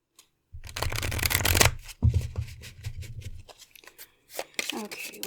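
Tarot cards are shuffled by hand in two bursts of dense riffling close by, then quieter card handling and taps, while a person talks over it.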